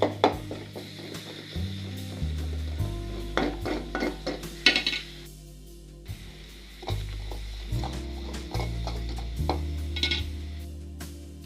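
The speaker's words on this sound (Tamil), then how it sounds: "நல்லா மிக்ஸ் பண்ணி தண்ணிலாம் சேர்க்கக்கூடாது அந்த வெள்ளம் நல்லா உருகி மெல்ட் ஆகி நல்லா அப்படி கெட்டியாக வரும்" Melting jaggery being stirred in a pan, giving repeated scraping and clinking of a utensil against the metal in an uneven rhythm, close and moderately loud, with a low steady hum beneath and no talking.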